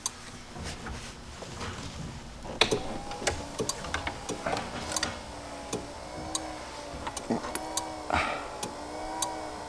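An electric fuel pump runs during a test of a cheap knock-off Chinese carburetor, giving a steady, fairly quiet ticking with sharper clicks scattered over a low background hum.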